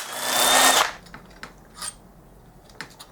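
Power tool whirring as it removes crankcase bolts from a BMW F650GS motorcycle bottom end, one loud close burst lasting under a second, followed by faint clicks and small metallic knocks.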